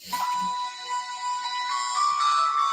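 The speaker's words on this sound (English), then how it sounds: "That is my phone." A mobile phone ringtone chimes alone and fairly loud, a sustained electronic melody with bright tonal layers that runs steadily for a few seconds.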